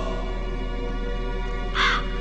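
A single crow caw rings out near the end in the Metal Gear Solid video game, loud and close over a steady low musical drone.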